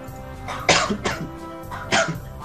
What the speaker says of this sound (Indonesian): Maaf, saya ada sedikit batuk.